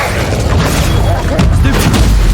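An Incendio fire spell cast in Hogwarts Legacy, a loud whooshing burst with booming, crashing impacts over dense game sound that stays constant throughout.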